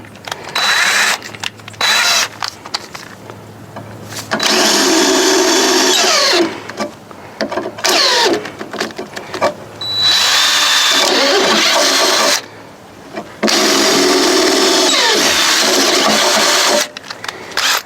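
A power drill with a 1/4-inch bit bores holes for mounting a right-side step on a Kioti CK series tractor, whining loudly in several long bursts separated by short pauses and fainter clicks.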